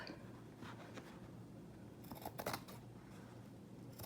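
Scissors cutting paper for a fall photo album, a few soft snips followed by a brief cluster of sharper cuts, faint and close, with no talk.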